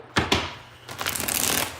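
A deck of playing cards is shuffled during a tarot-style card reading: two quick riffling snaps, then a longer brisk ruffle of cards, close and clear with no talking.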